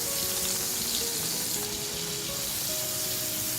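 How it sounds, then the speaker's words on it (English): Chili paste frying in oil in a frying pan for sambal, producing a steady, dense sizzle close by with faint watery bubbling throughout, no voices. "Remove half the oil from the frying pan and fry the chili paste to make the sambal"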